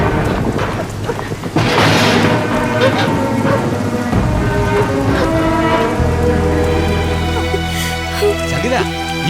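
Heavy rain pours steadily through a Malayalam film scene, a dense hiss that never lets up, with low thunder rumbles, voices speaking over it and a sustained tonal hum joining in the second half.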